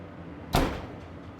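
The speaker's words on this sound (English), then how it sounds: "all we have to do is close the door." A Henny Penny FlexFusion Platinum Series combi oven door swings shut with one firm, close thud followed by a brief fading resonance in a quiet kitchen.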